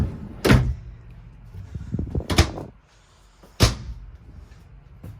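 Three sharp knocks and slides of a deep drawer being opened and shut in a small travel trailer bathroom, each a brief clatter with quiet gaps between.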